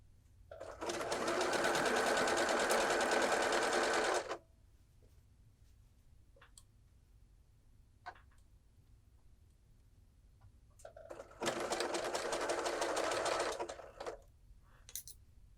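Sewing machine stitching a knit fabric circle skirt, two loud steady bursts of fast running stitches separated by a quiet pause with small handling clicks.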